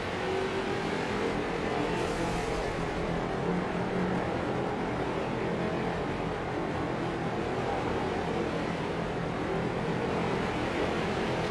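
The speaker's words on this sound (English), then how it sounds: "Man, we got cars everywhere." Continuous roar of race car engines during a figure-8 endurance race, a dense droning blend of motors from several cars at a distance, with no talking.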